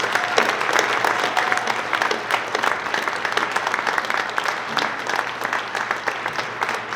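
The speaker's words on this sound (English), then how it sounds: "raise your hand so that we can give you a round of applause." An audience at an adult-education institution's 50th anniversary event breaks into sustained, dense applause for faculty, steady clapping from many hands filling the room.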